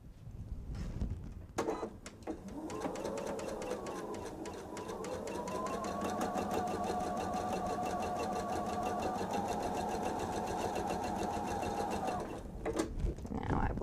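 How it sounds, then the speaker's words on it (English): A sewing machine stitches fabric pieces together with a quarter-inch seam for a bench pillow, running in one loud, steady mechanical whir for about ten seconds, with short clunks just before and after. "I'm going to stitch them together with a 1/4 inch seam"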